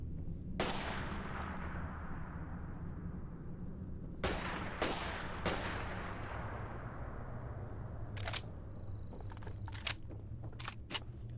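Gunfire in Fallout 4: a handful of separate sharp shots spread over several seconds, each a broad crack with a short tail, with quicker, smaller clicks near the end over a steady low game ambience.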